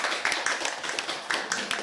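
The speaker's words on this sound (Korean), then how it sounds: "큰 박수로 마감을 하겠습니다." Applause from the audience at the close of a Korean-Chinese next-generation forum: a short, dense patter of many hands clapping at once, fairly near and steady, with no voices over it.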